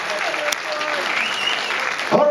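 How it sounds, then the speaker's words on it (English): An audience at a GBOB final applauds the judges in a short, steady burst of dense clapping. "Give them all a round of applause."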